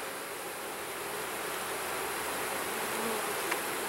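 Honey bees buzz in a steady, dense drone throughout, a continuous hum of many insects close by with no voices.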